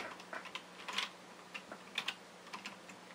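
Soft, quick keystrokes on a computer keyboard in a quiet room, a loose burst of clicks with short pauses between groups, faint and close.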